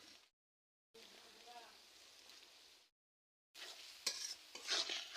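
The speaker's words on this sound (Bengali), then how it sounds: "এই তো সবগুলো মশলা দিয়ে ভালোভাবে কষিয়ে নিতে হবে" Whole spices, dried chillies and turmeric, along with cinnamon and bay leaf, are stirred and fried in a pan while cooking kumra bori. Soft scraping and gentle sizzling come in bursts broken by short silences, ending with brighter, crackling frying.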